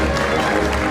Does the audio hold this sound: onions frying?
no